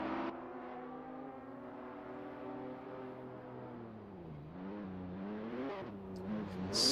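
Race cars in a 1994 Custom Tourer Championship round at Riverside downshift as they return to pit lane, engine pitch stepping down and rising again in a quiet, somewhat distant whine with no talking.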